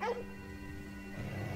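A dog in the video game Ghostwire Tokyo gives a short, high whimpering yip, followed by a faint held tone and low background rumble.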